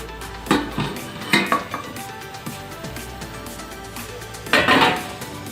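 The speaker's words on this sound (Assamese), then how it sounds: "এতিয়া ঢাকনিখন খুলি চাই লৈছোঁ।" A metal lid lifted off a cooking pot of mustard fish curry, heard as a few sharp clanks and rattles standing out above a low kitchen background, with one louder clatter near the end.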